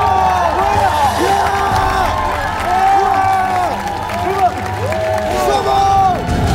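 Studio audience of a Korean TV talent show cheering and applauding after a truck is successfully moved, a dense steady roar of clapping and shouts with voices calling out over it throughout.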